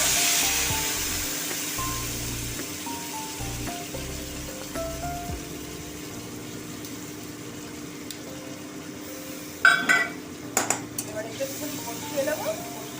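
Spice paste of ground chilli, cumin and coriander powder and Kashmiri chilli powder mixed with water, sautéing in a pan with a soft low sizzle, broken later by a few sharp utensil scrapes and clanks.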